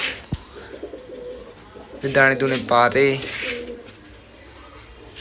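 Pigeons coo in low, repeated throaty phrases nearby at a home loft, with other birds chirping and someone talking over them.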